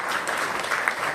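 Audience applause at a church gathering, a dense steady clatter of clapping hands filling a short stretch at even loudness with no voices over it.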